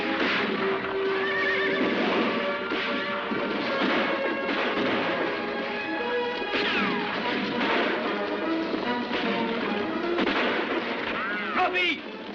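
Horses gallop in a Western film scene, hooves pounding continuously under whinnies and neighs, with gunfire and crashing mixed into a loud, busy action soundtrack.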